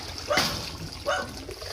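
Water splashes from a bucket during a dog's bath, two short splashes about a second apart, fairly close, with light trickling and faint voices in between.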